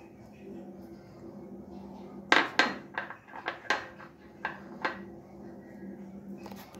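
Ground soaked moong dal paste is knocked into a bowl with a spoon, a quick run of sharp clinking taps against the bowl over a faint background hum.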